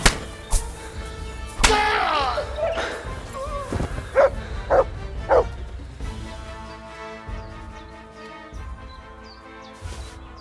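A dog in Kingdom Come: Deliverance II barks and yips in a few sharp bursts at close range, trailing off into whimpers among ambient game sounds, with brief talk nearby.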